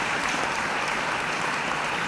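An audience at a university autumn graduation ceremony applauds, a dense, even wash of many hands clapping at once that holds steady and loud throughout.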